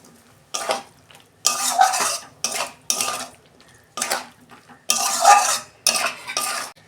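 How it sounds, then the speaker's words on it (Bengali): Prawns stirred and sautéed in a pan with a spatula: a run of loud, close scraping and clattering strokes in irregular bursts, separated by short pauses. "চিংড়ি মাছটা দিয়ে দিচ্ছি, আর 2 মিনিট আমি কষাবো।"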